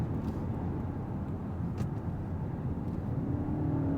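A 2025 Toyota Camry XSE hybrid accelerates hard at full throttle, a steady, dense engine and road roar from inside the cabin holding constant throughout.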